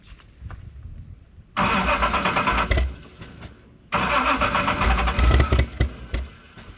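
A Reliant Scimitar GTE engine with its timing out cranks and catches in two loud bursts, running roughly and coughing back through the carburettor, with quiet pauses between attempts.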